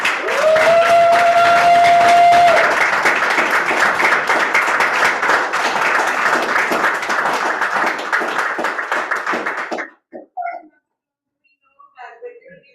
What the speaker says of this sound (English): Let us give our president, Toastmaster Jones, another round of applause.